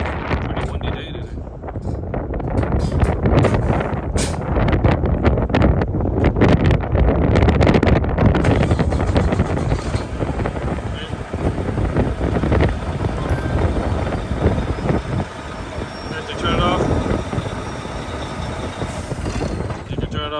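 Gusty wind buffets the microphone outdoors on a windy day beside a Volvo 730 being remote started, a loud, continuous broadband roar rising and falling throughout.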